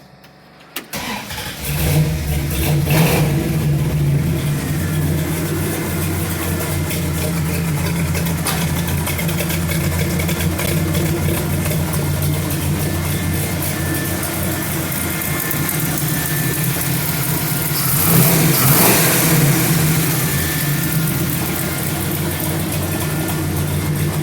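A Dodge D50 pickup fitted with a big-block engine and an aftermarket exhaust with loud mufflers starts up and settles into a deep, steady, rumbling idle, with one brief rev swelling partway through, heard alone and close.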